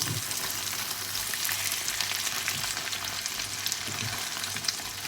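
Eggplant omelette frying in a pan, a steady, dense sizzle that holds at an even level throughout without any talk.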